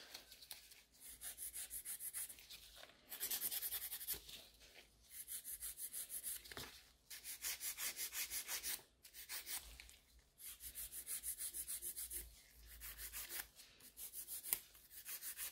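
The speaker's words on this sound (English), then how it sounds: "And I'm starting always with filing the free edge." Nail file working the free edge of a coffin-shaped gel nail extension: close, soft rasping strokes in steady back-and-forth bursts with short pauses between sets, quiet and without talk.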